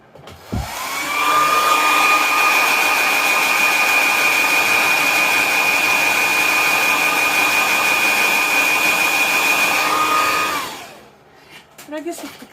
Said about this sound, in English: sometimes when I want things to go faster, I use hair dryer.